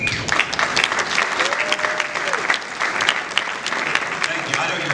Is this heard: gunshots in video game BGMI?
no